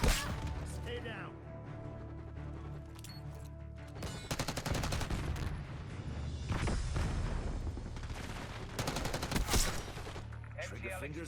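Gunfire in the Black Ops 6 video game, with dense rapid bursts of automatic fire, sharp cracks and impacts over several seconds amid battle noise, with voices talking in between.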